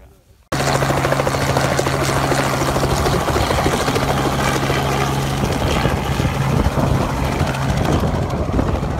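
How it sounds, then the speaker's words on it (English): A rescue helicopter, called for a climber with a broken femur, runs close by with a loud, steady rotor thump and engine whine. It drowns out the people talking nearby. "you're gonna need to probably get the chopper"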